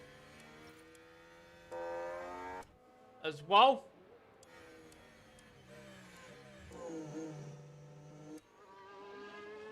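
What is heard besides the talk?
Formula 1 car engine sounds in F1 Manager video game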